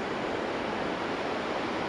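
Ocean waves washing onto a beach on a clamming outing, heard as a broad, steady roar of surf with wind, close and fairly loud, no voices.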